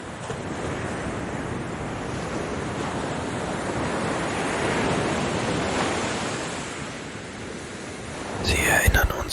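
Ocean waves wash continuously onto a beach in a broad, steady surf roar, rising and falling gently, loud and close, with a brief wind buffet on the microphone near the end.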